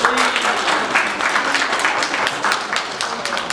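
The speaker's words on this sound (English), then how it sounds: "Round of applause, please." Audience applause welcoming a speaker to an impromptu speech demonstration, a dense, continuous patter of many hands clapping at steady loudness.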